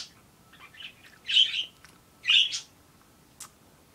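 Backyard fowl calling with a few soft chirps and two louder squawking calls about a second apart, close by against a quiet background, no talking.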